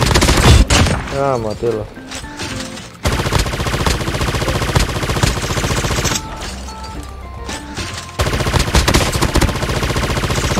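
Gunfire in a shooting video game with an M13 rifle, rapid automatic bursts loud and dense across the clip with short pauses, while someone talks excitedly over it.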